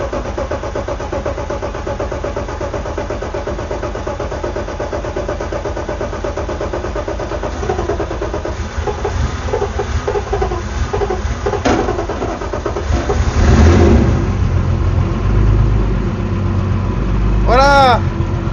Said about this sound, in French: Ça c'est de l'auto, ça démarre. Ça démarre tout le temps.